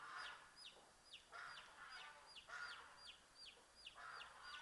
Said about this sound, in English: Can you hear the geese honking? I don't know if you can hear a little cheeping.